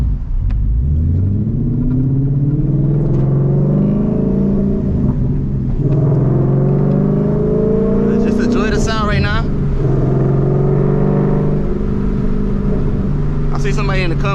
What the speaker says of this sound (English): Somebody in the comments said my car sound like a GT350 and a low RPM